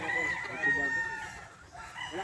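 A Sweater Boston gamefowl rooster crows at a game farm, a nearby strained crow with clucking and other fowl calls around it, and light talk in the background.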